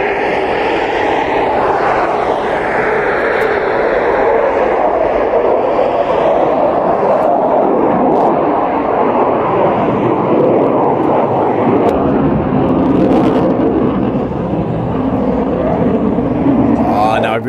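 Display team aircraft departing on a Monday morning after the Midlands Air Festival, a sustained engine roar that swells and shifts in pitch over several seconds, close and loud, with a voice talking over it.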